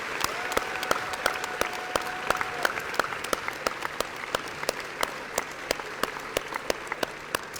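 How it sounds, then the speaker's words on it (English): An audience at the Arkansas Governor's School welcome gives the RAs sustained applause, a dense wash of many hands with sharper individual claps standing out, holding steady at moderate distance. "let's give them a big round of applause"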